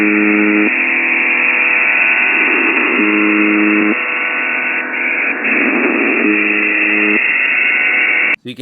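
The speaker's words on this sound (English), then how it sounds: "you can hear this like steady tone, and then you can hear like this static that comes in and out" An encrypted radio transmission plays loud and close: repeated buzzing tone bursts over a steady high tone, with static washing in and out between the bursts and a sharp cutoff at the end.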